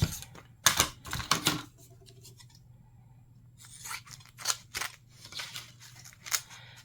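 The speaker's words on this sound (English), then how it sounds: "I'm going to take my book tape. And I'm going to cut a piece off." Scissors snip through a piece of book tape for a junk journal, a few crisp close cuts in a quick burst early on and again later, with quiet pauses between and no talking.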